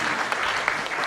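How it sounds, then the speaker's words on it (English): An audience at a 2018 precious metals conference session applauds the panel, a dense burst of many hands clapping at close range, steady throughout. "let's give a round of applause to the panel"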